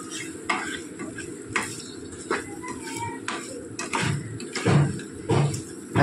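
A spoon stirring potato and tomato curry in a pan, with repeated scraping strokes against the metal over a soft background sizzle, close and fairly loud.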